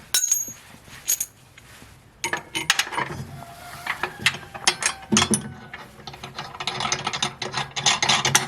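Nylon locking nuts being snugged onto a lawn mower trailer hitch give close ratchet clicks and metallic grinding, with scattered clanks of tools and hardware, busy and irregular throughout.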